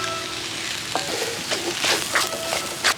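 A spoon stirs egg and mashed potato filling for stuffed chapathi in a pan, giving a run of soft scraping strokes over a faint sizzle.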